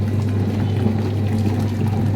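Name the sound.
pouring tamarind water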